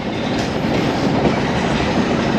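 Steady rumble and rattle of a passenger train riding the rails from Phnom Penh to Battambang, Cambodia, heard from inside a carriage as a continuous, loud, even drone with faint wheel clatter and no talk.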